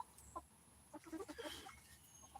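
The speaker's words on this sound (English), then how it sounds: "Damn chickens." Chickens clucking outdoors, a handful of soft short clucks and murmurs scattered over a couple of seconds, faint and somewhat distant against quiet background noise.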